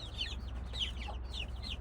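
Domestic hens clucking in repeated bursts inside a backyard poultry cage, with a steady low hum running underneath throughout.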